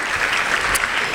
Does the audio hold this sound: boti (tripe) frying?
no